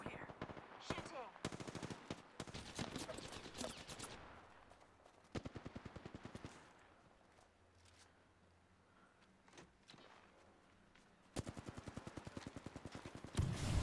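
Video game gunfire in a military shooter, loud bursts of rapid automatic fire separated by quieter lulls, with heavier volleys at the start and again near the end.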